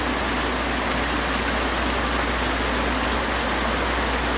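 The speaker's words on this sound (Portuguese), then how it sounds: "Muita chuva aqui no Rio Grande do Norte" Heavy rain pours down in Rio Grande do Norte, a dense and constant roaring hiss that fills the whole scene without a break.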